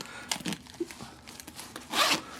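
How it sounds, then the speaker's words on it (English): A zipper on a backpack's mesh pouch being worked, with short scratchy rasps and a louder, longer pull near the end; close and fairly quiet, with no talking. "Inside this zipper mesh pouch, I just zipped my gloves up in it."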